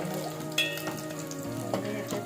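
Green chilli dropped into hot oil for tempering a fish curry, giving a steady close sizzle with sharp crackling bursts and a few clinks of utensils; no talking.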